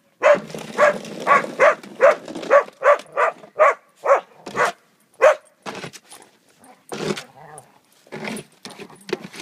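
A dog barks loudly and close by in a rapid, rhythmic series of about a dozen sharp barks, then a few more spaced, irregular barks follow after a brief pause.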